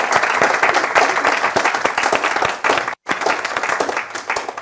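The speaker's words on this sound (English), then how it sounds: "just one more time, clap really loudly so that you can get your inspiration going" An audience at an improv comedy event claps loudly and continuously, dense rapid applause with a brief break near the middle before it resumes.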